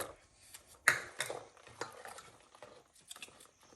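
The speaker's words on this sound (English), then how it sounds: "And now we're gonna fold in our pecans." A spoon or spatula folds pecans into a thick pecan pie filling in a bowl. The utensil gives soft, sticky stirring sounds and a few sharper scrapes and clinks against the bowl.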